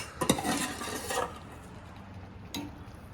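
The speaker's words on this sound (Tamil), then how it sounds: "ஆட் பண்ணி ஒரு கிண்டி விட்டுக்கிறதா" Cooked moong dal being stirred into ridge gourd in a pot, with a few clattering spoon-on-metal scrapes and clinks early on, then a quieter stretch and one more brief clink.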